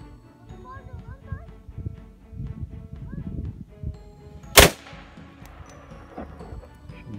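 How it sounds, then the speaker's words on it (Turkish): A single sharp, loud Desert Eagle pistol shot cracks out midway, standing out clearly over murmuring voices and background chatter at a shooting range. "Tam göbekten vurdu Desert Eagle'la"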